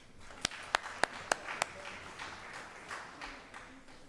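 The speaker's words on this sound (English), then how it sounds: "Please give her a round of applause." A small audience at a distance-education council's 20th anniversary celebration gives sparse applause: five sharp, distinct claps up close, followed by faint scattered clapping in a large room.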